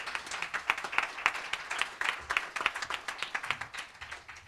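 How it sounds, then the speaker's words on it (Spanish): Audience applause at a book presentation, a moderate crowd clapping steadily with dense, irregular claps throughout, no voices over it. "a todos ustedes les pido un fuerte aplauso para agradecérselo"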